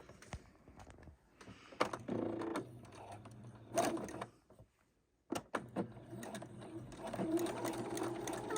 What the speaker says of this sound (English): Do a little lock stitch at the very beginning, and we're just going to do a straight stitch right down the row